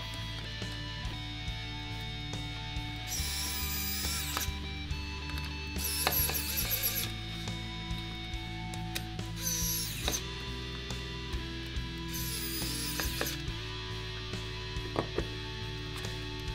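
A small ratchet tightens a part on an Eaglemoss Ecto-1 model kit, giving close mechanical clicking in repeated bursts with a few brief sharper rasps in between, and no talk.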